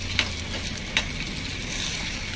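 Shrimp frying in a pan for a prawn bharta, giving a steady close sizzle throughout with two brief sharp crackles or stirring clicks near the start and no talk.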